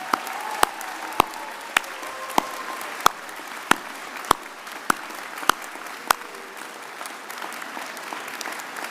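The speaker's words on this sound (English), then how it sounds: "big round of applause" A graduation ceremony audience gives a sustained round of applause, a steady patter of many hands with a few sharp, louder claps standing out at regular intervals.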